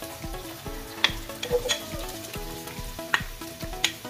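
Garlic and onion fry in a pan, with a constant sizzle and repeated scraping and clinking as a utensil stirs, some sharp knocks standing out close by.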